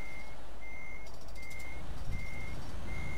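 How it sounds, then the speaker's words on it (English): Repeated truck reversing beeps from Euro Truck Simulator 2, a steady series of evenly spaced high tones over a constant engine rumble, with a brief burst of other noise midway. "I'm reversing at 30 miles an hour"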